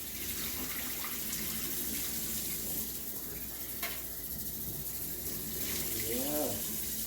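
Pig feet being rinsed under a running kitchen tap for Caribbean souse, with a steady stream of water splashing over the meat and into the sink, some brief handling noises, and a voice speaking faintly in the background.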